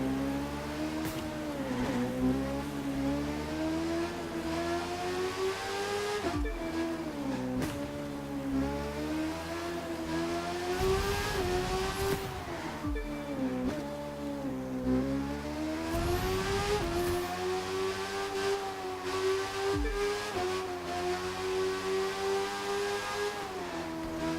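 Racing motorcycle in The Crew 2, fully upgraded, its engine holding a loud, steady high-pitched drone that rises and falls with throttle, with brief dips and surges as it shifts and accelerates throughout.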